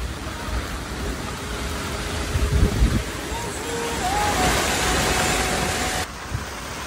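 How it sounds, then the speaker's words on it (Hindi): Heavy rain drums steadily on a tent during night car camping in Goa, with broadband hiss, and wind or traffic noise underneath; loud and constant throughout. "बारिश तो तगड़ी वाली हो रही है यार"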